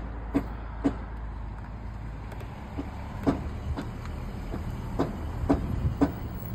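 A car's brakes make a noise, heard as a series of sharp, regularly spaced clicks or knocks over a steady low hum, close and fairly clear, with no talk.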